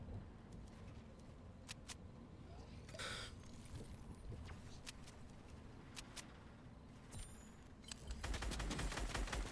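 Distant gunfire in Fortnite arena duos: faint scattered shots over quiet game ambience, ending in a louder rapid burst of fire.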